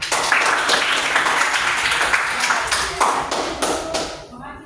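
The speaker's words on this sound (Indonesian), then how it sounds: "mari kita beri aplaus kepada Rika" Classroom applause for a student's presentation: dense, steady clapping from a group of pupils fills the room, loud and continuous with some voices mixed in, then thins out toward the end.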